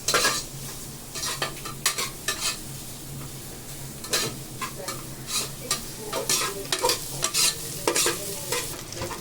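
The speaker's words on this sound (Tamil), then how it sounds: "நல்லா பாருங்க ப்ரௌனிஷாக வதங்கிச்சா" Chicken curry base sautéing in a pan until browned, with steady sizzling and frying noise broken by repeated stirring and scraping strokes, fairly close and without speech.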